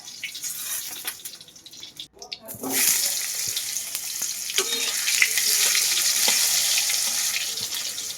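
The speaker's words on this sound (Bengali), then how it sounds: "ঠিক একই রকমভাবে আলুটাও কিন্তু ভেজে নিতে হবে।" Potatoes fry in oil in a home kitchen for a fish curry, a loud continuous sizzle that swells after a brief lull, with occasional scraping stirs and no talking.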